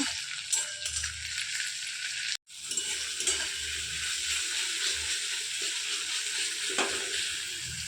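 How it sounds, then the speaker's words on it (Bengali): Onions and tomatoes fry in a pan for a cauliflower-and-potato fish curry. A steady close sizzle carries light stirring and scraping, broken by one brief dropout near the start. No talking. "ভালো করে পেঁয়াজগুলো ভেজে নেব"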